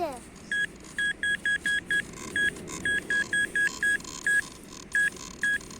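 Short electronic beeps from a metal detector pinpointer repeat in quick bursts, steady in pitch, with brief gaps between clusters over faint background noise on a beach.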